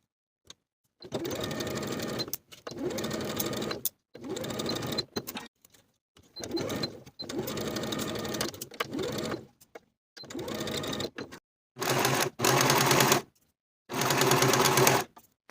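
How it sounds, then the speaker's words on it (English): A sewing machine stitching sleeves to the front bodice of a dress along a 3/8 inch seam, running in repeated bursts of steady rapid whirring separated by short silent pauses, close and clear. "Sew both sleeves in place to the front bodice with a 3/8 inch seam allowance from top to bottom"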